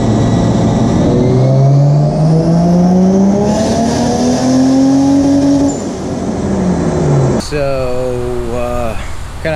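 A Toyota 2JZ engine in a Nissan 240SX revs on a dyno, its loud harmonic tone climbing steadily for several seconds, then dropping and rising again in quick, stepped pulls near the end.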